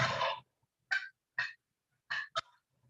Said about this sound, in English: here's a typical wild turkey gobble